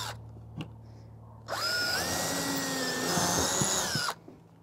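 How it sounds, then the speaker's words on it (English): A power drill bores a pilot hole into wood while building a seed tray: one steady whine of about two and a half seconds, with a few clicks before it and quiet after. "I need to drill a pilot hole with a bit, because if I don't use this, my wood will likely split"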